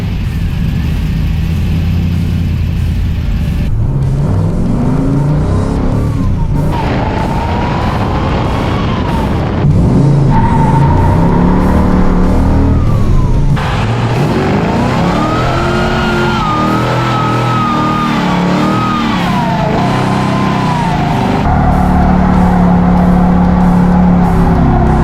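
A restored car revs hard on a drive, its engine rising and falling through repeated loud accelerations and gear changes, close and continuous throughout.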